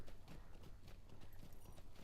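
Horse hooves clip-clop in a steady, quick rhythm as a mount travels in the Lord of the Rings Online game, sounding fairly close and continuous throughout with no voices.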